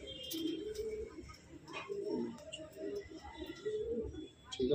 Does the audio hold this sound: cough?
no